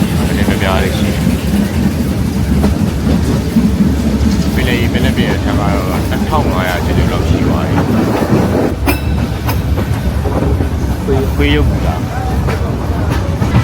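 Shan State train rolling between Thazi and Taunggyi in Myanmar, a continuous close rumble with rhythmic wheel clatter on the rails, while a person talks over it almost the whole time.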